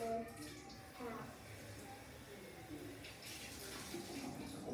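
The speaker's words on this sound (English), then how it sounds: "You want to rinse the baby powder out." Running water rinses baby powder out, a soft, continuous splashing flow heard fairly faint and close, with a voice speaking over it.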